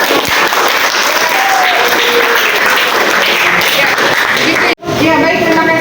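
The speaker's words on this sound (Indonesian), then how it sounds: "Tepuk tangan buat" A class of schoolchildren clapping in a classroom lesson, dense steady applause filling the room, mixed with voices and cut off abruptly near the end before talk resumes.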